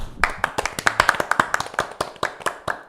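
Applause for a church deacon at an informal church gathering, a short burst of several people clapping nearby in a quick, slightly uneven rhythm.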